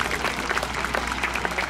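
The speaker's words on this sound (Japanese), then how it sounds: "大きな拍手を迎えください。" A stadium crowd at a baseball game claps for the ceremonial first pitch, a dense, sustained roar of applause with scattered distinct claps, loud and fairly near.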